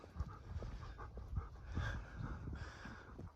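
A dog pants close by in rhythmic rapid breaths while out on a walk near a campsite, with faint outdoor ambience and no talking.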